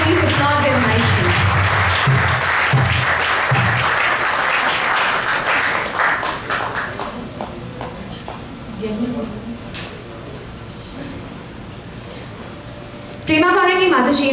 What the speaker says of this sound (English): so we can at least applaud them nicely